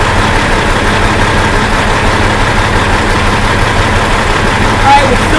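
An engine idles steadily and loudly during a cylinder cut-out test, a constant low rumble with a voice speaking over it.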